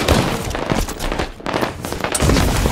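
Loud bursts of gunfire in a Halo 5 Big Team Slayer match on a Forge map, rapid overlapping shots with a short lull in the middle before firing resumes, close and harsh.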